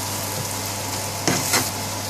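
Spices frying and being stirred in a pan for a Bengali-style chicken heart bhaji, a steady close sizzle with a couple of brief scraping stirs and no talk.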